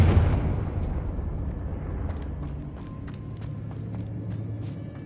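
Confringo spell blast in Hogwarts Legacy, a loud explosive burst at the start that decays into a long rumbling tail with scattered crackles and faint debris.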